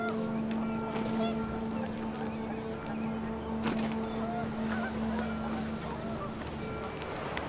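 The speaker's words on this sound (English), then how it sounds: "The wind picked up, panicked geese appeared and quickly went." Panicked geese honk in the video game What Remains of Edith Finch, a steady flurry of calls over a constant low drone and wind, with no speech.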